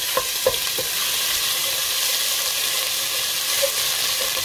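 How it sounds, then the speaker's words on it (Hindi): Ginger garlic paste hits hot oil already holding curry leaves, mustard seeds and cumin for kadhi pakora, giving a steady close sizzle with a few stirring clinks at the start. "अब मैं इसमें अदरक लहसुन का पेस्ट डाल दूंगी"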